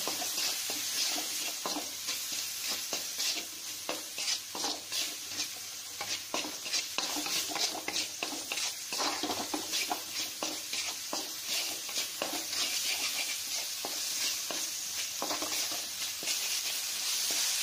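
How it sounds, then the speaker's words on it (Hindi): Tomato pulao with tomatoes and salt being stirred in a pan: continuous scraping and stirring over a steady sizzle, close and fairly loud, with no one talking. "और अब इसको चलाते हैं अच्छे से"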